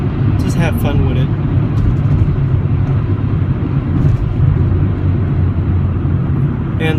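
Mercedes-Benz CLA45 AMG in sport mode with paddle shifting, a steady loud engine drone and road rumble from inside the car, with a few brief higher sounds near the start and end.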